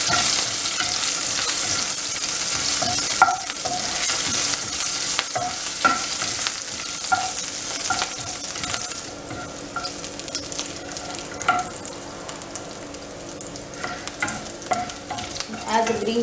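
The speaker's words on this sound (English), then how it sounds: "As the green chilies are roasted" Green chilies and cumin seeds sizzle in hot oil and ghee, a bright steady frying hiss broken by clinks and scrapes of a spoon stirring the pan.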